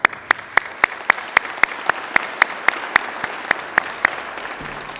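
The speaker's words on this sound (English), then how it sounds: "Let's acknowledge with a round of applause." Audience applause at a town State of the Town address, a steady wash of many hands clapping with one sharp, evenly spaced clap standing out near the front, sustained loud throughout.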